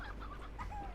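Chickens in the Slime Rancher game cluck in quick, soft bursts over a low, steady background hum, with a few higher chirping notes near the end.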